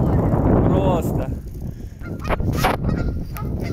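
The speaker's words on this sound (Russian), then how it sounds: "А вот нас встречают жители гусиные." Geese honk repeatedly at close range along a park waterside in Czechia, a loud mix of calls over outdoor background noise with no talk.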